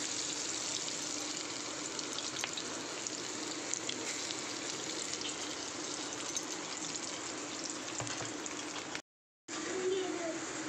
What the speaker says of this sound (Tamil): வடையெல்லாம் இப்படி போட்டு இந்த சைஸில் எல்லாம் போட்டு பொறிச்சு எடுத்து வச்சுங்க